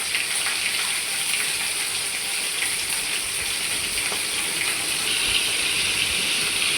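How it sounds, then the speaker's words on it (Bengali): Prawns fry in hot oil seasoned with whole cumin seeds, producing a steady, dense, loud hiss that carries on unbroken throughout. "তারপর তার মধ্যে চিংড়ি মাছগুলো ভাজতে দিয়ে দিয়েছি।"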